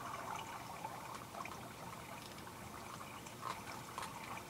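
Steady flowing water in the Minecraft video game, a continuous trickling, burbling wash at moderate level with faint splashy accents, no voices over it.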